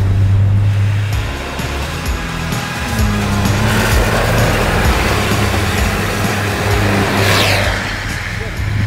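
A Toyota Hilux pickup driven hard on a rally stage, its engine a steady loud drone with shifts and load changes through the turns, with road and wind roar throughout and someone talking over it.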